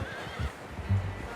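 A horse neighs in the Red Dead Redemption 2 video game, a short whinny with a louder burst near the end and faint hoof clip-clop underneath, fairly close.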